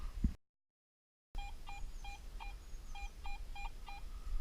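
A Garrett AT Pro metal detector in a forest gives a run of short, clean electronic beeps in an uneven rhythm, moderately loud and close over quiet outdoor background, after a brief gap of silence.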